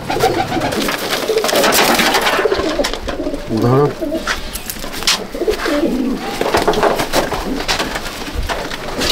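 Pigeons coo repeatedly at close range, soft throaty calls rising and falling over a busy, noisy background.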